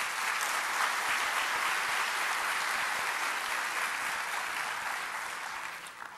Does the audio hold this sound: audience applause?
yes